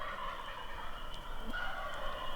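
Wild turkeys gobble in the distance in spring woods, a faint rolling gobble rising out of a quiet outdoor background with a few soft fowl calls, no talk.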